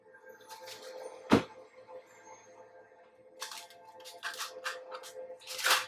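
Tarot cards being shuffled by hand, with a few short crisp riffling and slapping bursts, the loudest near the end, spaced by quiet stretches with a faint steady background.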